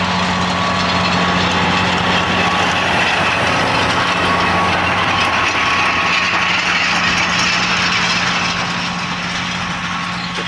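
A farm tractor engine runs steadily during cover-crop sowing, a loud continuous drone with a constant low hum and busy mechanical clatter, close and unbroken throughout.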